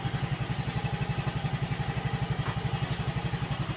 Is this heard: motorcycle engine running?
yes